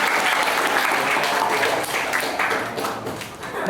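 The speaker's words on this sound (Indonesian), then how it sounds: "Oke, tepuk tangan buat kita semua." A classroom group claps together during a lesson, a dense, steady burst of applause lasting a few seconds before fading slightly toward the end.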